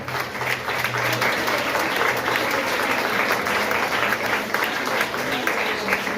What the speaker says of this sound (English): Clap them, man, clap them.